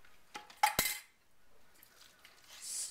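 Cranberries spooned into a Waldorf chicken salad in a bowl, a few close clinks and taps of a spoon against the bowl early on, then soft quiet stirring and rustling.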